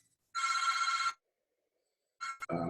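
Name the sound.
telephone ringing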